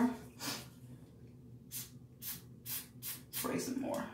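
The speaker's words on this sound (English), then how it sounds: "I got the lace all down with the Gatsby glue spray" Several short hissing bursts of Gatsby glue spray on wig lace, about five or six, spaced irregularly and close by, with faint breathing and a brief voice near the end.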